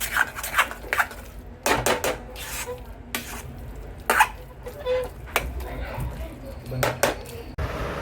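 Scraping and clinking of a spoon stirring semolina in a metal pan, repeated irregular strokes close by, with faint background noise.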